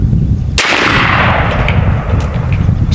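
A single loud, close blast from a 12 gauge AEA Zeus shotgun firing Civil War style chain shot outdoors, a sharp report followed by a long rumbling decay.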